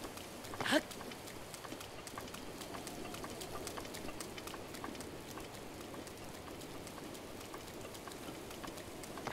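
Steady light rain pattering across the ground in The Legend of Zelda: Breath of the Wild, a soft continuous patter with a few scattered sharper drops and a brief louder knock near the start.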